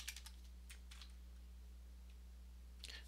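Sparse bursts of typing on a computer keyboard, quick clusters of key clicks near the start, around one second and again at the end, with quiet pauses between and a steady low hum underneath.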